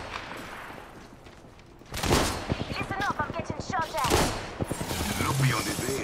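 Gunfire in the Apex Legends video game, quiet at first, then dense rapid bursts of automatic shots crackling close and loud for several seconds, with a voice talking over part of it.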